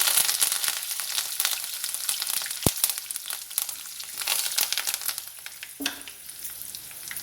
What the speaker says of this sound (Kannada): ಇವಾಗ ಸಾಸಿವೆ ಚಟ್ಪಟ ಅಂತ ಇದೆ.